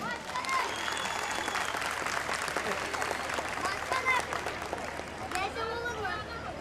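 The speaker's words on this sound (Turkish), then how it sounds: "geleceğin gençlerine kocaman bir alkış" Concert crowd in Kemer applauding for young people at a show, steady clapping mixed with cheers and crowd chatter, fairly distant and held at a constant level, with whistles and shouts poking through.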